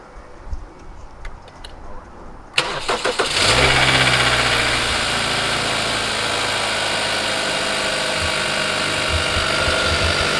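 A Kia Optima engine cranks with a few quick turns and catches, then settles into a steady idle hum that continues to the end after a few faint clicks.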